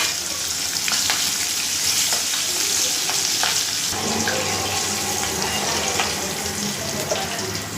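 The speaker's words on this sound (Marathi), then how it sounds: "आता हे तळून घेते थोड्याशा तेलामध्ये." Slit, salted green chillies fry in a little oil, producing a loud, dense, continuous sizzle that hisses like running water, with a few faint clicks and no speech.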